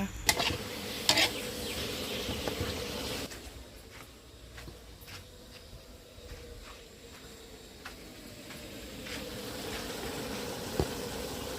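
Galangal flowers and pork belly with pork neck are stir-fried in a pan, starting with a loud close sizzle, then quieter frying broken by repeated clinks and scrapes of a utensil against the pan.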